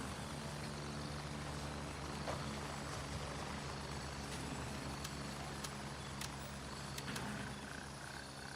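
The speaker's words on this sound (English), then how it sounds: "Not our chopper." A helicopter flying over in the Gray Zone Warfare game, a steady distant rotor drone under a dense outdoor ambience, faint and continuous throughout with no talk.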